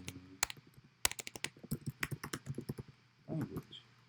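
A computer keyboard is typed on at a steady rapid pace, close up, with a couple of sharp louder key clacks and a short burst of faster typing near the end, no talking.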